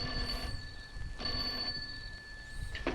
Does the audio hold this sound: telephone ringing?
yes